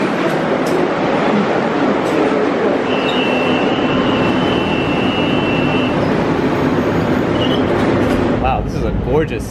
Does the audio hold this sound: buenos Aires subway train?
yes